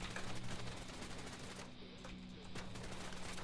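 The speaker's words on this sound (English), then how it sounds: "Give me your SMG, yeah, this will do." Continuous automatic SMG fire in the game Ferocious (demo), a steady dense rattle holding at an even level for the whole stretch with a brief dip near the middle, no talking over it.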